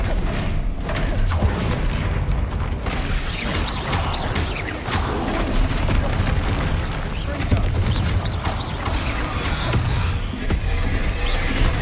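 The Bombarda blasting spell in the video game Hogwarts Legacy sets off repeated booming explosions amid a dense, loud, continuous game soundscape of thumps and rumbles.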